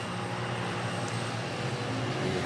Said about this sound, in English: We have a flyover over to the west.